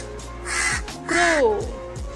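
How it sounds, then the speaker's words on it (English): A crow gives two loud, harsh caws in quick succession, close by. "Crow"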